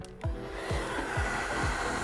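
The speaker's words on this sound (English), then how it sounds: "Take your blow dryer," A blow dryer runs steadily at close range while hair is dried with a round brush, a continuous airy roar broken by a few rhythmic dips as the brush moves through the hair.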